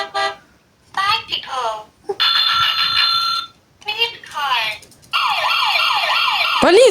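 Several different siren patterns play one after another, wailing and yelping tones with short gaps between them, loud and electronic like a toy or sound device, including a police siren.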